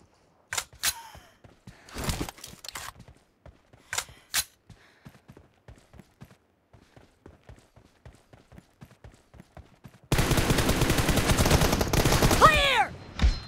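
Gunfire in a mobile team deathmatch shooter played on a Xiaomi Mi 10T: scattered single shots and short bursts, then a sustained rapid stream of automatic fire, loud and close over faint game sounds.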